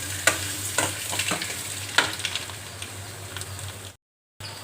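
Eggs seasoned with salt and a pinch of turmeric sizzle steadily in a pan, with a few sharp spatula scrapes and clicks over the frying hiss, then a brief cut to silence near the end.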